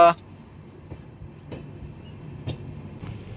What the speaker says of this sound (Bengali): ট্রেন ছেড়ে দিল কলকাতা স্টেশন থেকে